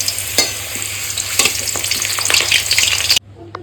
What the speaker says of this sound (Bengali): এরকম লম্বা লম্বা চন্দ্রমুখী আলু, এটাকে একটু ভেজে নেব।